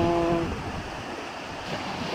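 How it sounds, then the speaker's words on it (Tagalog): Large waves pounding the shore of barangay Sugod during Typhoon Uwan, a continuous heavy roar of surf mixed with wind buffeting the microphone, with no speech. "Dito natin makakita ang kung malalaki ng alon, oh."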